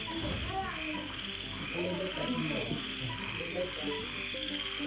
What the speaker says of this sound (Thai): ตอนกลางคืนเนี่ยจะเป็นเสียงจิ้งหรีดเสียงกบ